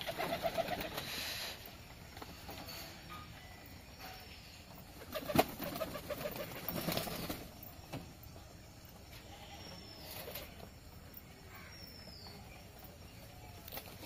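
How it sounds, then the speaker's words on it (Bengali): Pigeons cooing softly in low murmurs as they gather to feed, with wing flaps, a sudden clatter midway and faint background hum. "একে একে সব পায়রাগুলো চলে আসবে এখন খাবার খেতে।"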